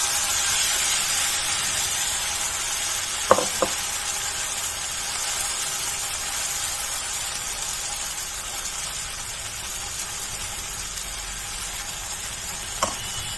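Batter hits an oiled pan on a low flame and sizzles in a steady, even hiss that lasts throughout, broken only by a few faint knocks, with no voices.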